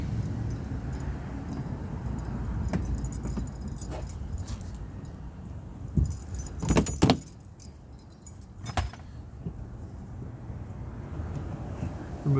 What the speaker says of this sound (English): The key works as a screwdriver for removing the tow cover.